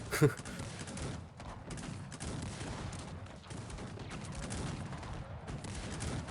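Massed cannon and musket gunfire in the real-time strategy game Cossacks 3, a dense crackling fusillade of overlapping shots with a sharp early blast, continuous and mid-distance, with someone commentating over it.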